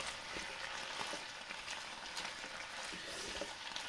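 Pork pieces browning in a hot pan, turned to colour on all sides, give a steady, even sizzle of frying with faint scattered crackles and no voices.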